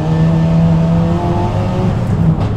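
A Renault R21 Turbo Europa Cup race car on the Charade circuit, its turbocharged front-wheel-drive engine droning loud and close under load with a sustained, slightly shifting tone and no voices.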